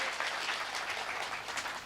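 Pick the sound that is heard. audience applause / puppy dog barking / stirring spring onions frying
audience applause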